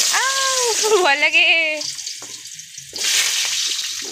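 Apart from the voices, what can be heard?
potatoes frying in hot oil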